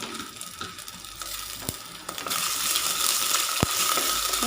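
Crushed garlic and ginger sauté in hot coconut oil in a clay pot, giving a steady close sizzle that grows louder halfway through, with a few sharp clicks from stirring.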